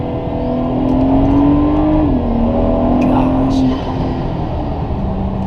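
A 2012 BMW 135i M Sport with the N55 engine and dual-clutch gearbox, tuned to about 400 hp, pulls hard: its engine note climbs, dips at a quick gear change, then climbs again before easing off, close and clear.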